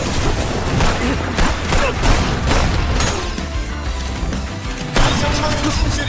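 Rapid gunshots in an animated esports battle from The King's Avatar rattle as dense, continuous fire under an excited commentator's voice, with a fresh loud burst near the end.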